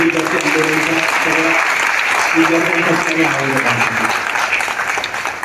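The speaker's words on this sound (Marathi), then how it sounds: "परत एकदा एक मोठा टाळ्यांचा हात होऊन जाऊ" A large crowd applauds loudly and steadily at a party workers' rally and gratitude ceremony, while a voice talks over the clapping throughout.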